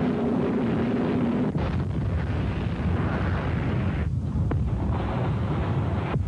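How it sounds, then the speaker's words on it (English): An Exocet missile strikes the hull of the British destroyer Sheffield in the 1982 Falklands War, a deep, rumbling blast that gives way to a sustained roaring rush, loud and close, with short crackling bursts. "The Exocet missile rips into the hull and the ship bursts into flames."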